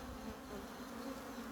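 Honey bees buzz in an opened hive during a spring check near Melbourne, a dense, steady drone of many insects close by with no talking.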